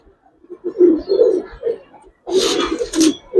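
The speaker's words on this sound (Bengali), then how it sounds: "এটা মাদি কবুতর, চোখটা অনেক সুন্দর" Giribaz racer pigeons coo close by in a series of soft, throaty calls, with a few brief breaks between them and a brief rustle of wing or movement near the end.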